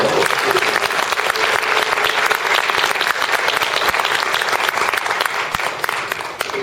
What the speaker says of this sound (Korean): 반드시 이루시라고 큰 박수 한번